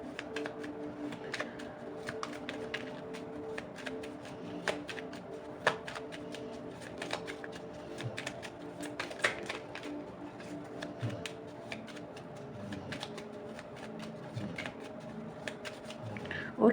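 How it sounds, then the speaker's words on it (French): Tarot cards are shuffled at close range, a steady riffling and flicking patter that continues throughout at low volume without pause. "Je vais mélanger encore les cartes,"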